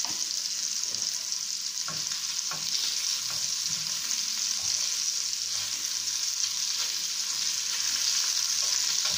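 Fresh salmon fillets sizzle in a hot pan, a constant bright hiss with a few soft clicks and scrapes of the pan, steady and close with no voices.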